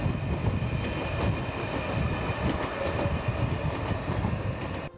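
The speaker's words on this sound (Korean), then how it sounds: "주택가와 바로 인접한 곳에 지하철 선로가 있어 지하철이 지날 때마다 그로 인한 소음과" A subway train runs along tracks directly beside houses in a residential neighborhood of Dongjak-dong, a loud continuous rumble and rattle of wheels and cars filling the whole stretch with no voices.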